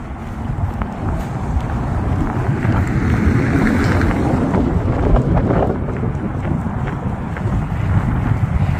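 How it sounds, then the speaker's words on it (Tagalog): Strong wind buffets the microphone with a constant heavy roar and rumble, steady and loud throughout with no talking. "Napakalakas din ng hangin dito."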